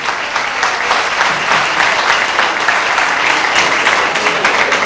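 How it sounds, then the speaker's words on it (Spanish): Audience applause after a tango performance with orchestra and pianist at a tango tribute event, steady dense clapping from a crowd sustained throughout without pause. "un aplauso, bien merecido"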